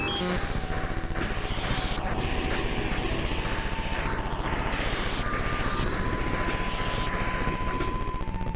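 Bomber aircraft in the video game Raid on Bungeling Bay, a loud, continuous droning engine roar with a held electronic tone running through it, steady for the whole stretch.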